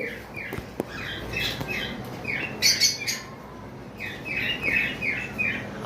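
Lutino Fischer's lovebirds at a bird farm give repeated sharp, high chirps and squawks in short bursts, close and fairly loud against a quiet background.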